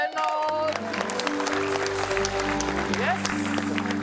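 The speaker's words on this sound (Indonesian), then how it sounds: "Oke, tepuk tangan dulu untuk Ewen dan Reynolds." Audience applause on a television show for Ewen and Reynolds, moderately loud and continuous, mixed with a sustained musical backing and a few voices underneath.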